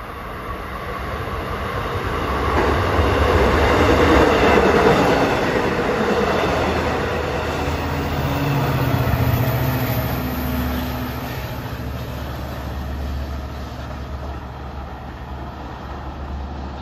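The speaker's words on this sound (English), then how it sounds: "Approaching westbound at 332 is train 2743 en route from Spionk to Jamaica." A Long Island Rail Road commuter train rumbles past close by at Elmont station, a steady loud roar of wheels and rail noise swelling and easing over several seconds with no voices.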